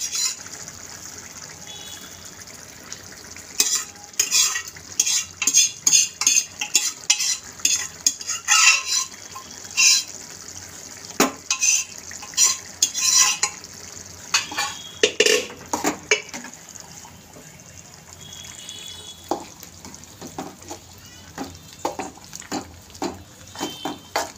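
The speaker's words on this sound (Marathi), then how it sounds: "व्हेजिटेबल जे आपण पूर्ण बॉईल केलेलं आहे ते यामध्ये घालून घ्यायचं" Boiled vegetables are tipped into a pan of pav bhaji and stirred, the spoon scraping and knocking against the metal in irregular bursts, with wet slops and pauses in between.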